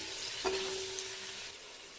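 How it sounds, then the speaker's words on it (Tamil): Tomatoes sautéing in a pan of oil for seeraga samba mutton biryani, a steady soft sizzle with one brief clack of a utensil early on, continuous and close without any voices. "ஒரு மூணு தக்காளி போட்டுக்கோங்க இதையும் நல்லா வதக்கணும்"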